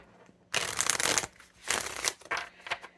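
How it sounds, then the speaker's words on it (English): Tarot cards are shuffled in several quick riffling bursts, papery and close, separated by short pauses. "I'm going to get one more shuffle in here."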